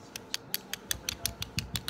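Small hollow plastic toy doll party pieces, such as lime green forks and a caramel apple, clicking and tapping in a quick irregular series of light, close clacks.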